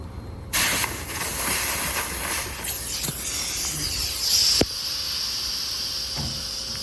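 Loud, steady hiss of refrigerant escaping as a Schrader valve is disconnected on a leaky Fujitsu multi-zone mini split, starting abruptly and running for several seconds, with a sharp click partway through before a slightly softer hiss continues.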